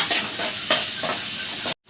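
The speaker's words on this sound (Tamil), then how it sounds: "இந்த வெங்காயத்தை வந்து 2 நிமிஷம் நல்லா வதக்கிட்டு" Onions sizzle and get stirred in a hot pan for a Muslim-style chicken gravy, with a continuous close frying hiss and a few soft scraping strokes. The sound stops abruptly at the end, and no one talks.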